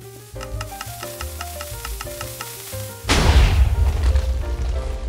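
A TNT carpet cannon in Minecraft fires with a burst of explosion noise and crackling after several seconds of steady tonal game music, the blast rolling on loudly to the end.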